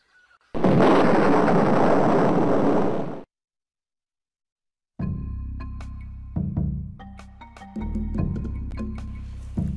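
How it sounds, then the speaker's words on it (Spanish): A loud, roaring gunpowder explosion in The Secret of Monkey Island rumbles for about three seconds and cuts to silence, followed by quieter synthetic tones and thuds. "eso provocará una explosión que liberará el río"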